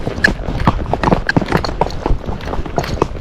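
Hooves of a Tennessee Walking Horse under a rider, a steady run of close, distinct clip-clop footfalls with a quick, even rhythm throughout.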